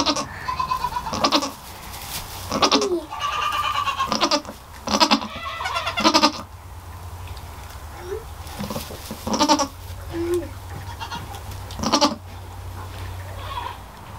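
Goat bleating repeatedly in a barn after giving birth, loud wavering calls in bursts separated by short pauses, with low farm background hum between them.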